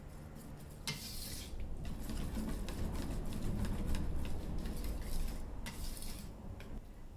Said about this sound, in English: And just stir until it's all combined.